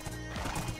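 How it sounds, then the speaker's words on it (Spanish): In a video game, a horse gives a brief, close whinnying neigh lasting under a second, loud and alone. "Yo tengo mi caballo"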